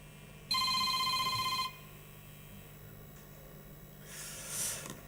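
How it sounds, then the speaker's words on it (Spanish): A mobile phone ringtone goes off during a lecture on plasterboard acoustic insulation, a bright electronic melody lasting about a second in a quiet room before stopping abruptly. "¿Es mi teléfono?"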